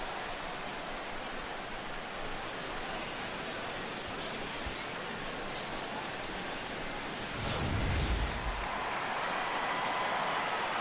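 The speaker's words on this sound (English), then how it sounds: "The rain, as we've mentioned, coming down fairly steadily here at game time." Steady rain falls over a baseball stadium during a game, a dense even hiss that holds throughout with a brief low rumble partway through.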